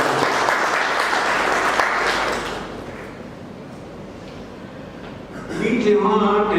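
Audience applause fills a hall at a Saraswat Parichay book release ceremony, loud and dense clapping that fades away after about two seconds before voices and music return.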